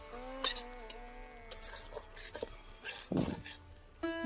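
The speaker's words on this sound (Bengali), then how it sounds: "একটু নাড়িয়ে চাড়িয়ে নিলাম খুন্তি দিয়ে" Raw jackfruit being stirred in a pan with a metal spatula, a scattering of sharp metallic clinks and scrapes at irregular intervals, close and fairly quiet, with some faint tonal background sound.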